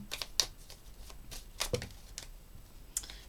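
A tarot deck is shuffled by hand in a series of crisp, riffling card flutters and soft slaps, close and quiet, with short pauses between bursts and no voices.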